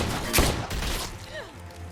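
A single sharp gunshot in The Walking Dead game, followed by a dull secondary thump and fading reverberation, with faint background ambience.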